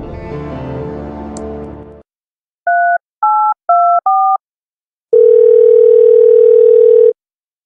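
Answering machine tones in the video game Thimbleweed Park: a loud continuous dial tone fades out, followed by four short dual-pitch keypad beeps and then a long, loud steady beep lasting about two seconds.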